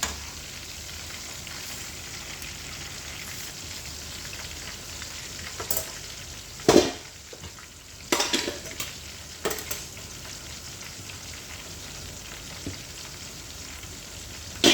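Marinated chicken deep frying in oil for chilli chicken, a constant crackling sizzle with a few sharp louder pops and bursts, close and steady, with no speech.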